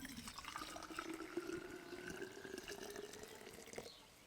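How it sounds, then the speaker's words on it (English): Hot water poured from a pot into a Klean Kanteen Classic bottle at a camp stove, a steady continuous trickling stream with a rising fill tone, faint and close, easing off at the end. "what I'm going to have to do here is decant this into my Clean Canteen Classic"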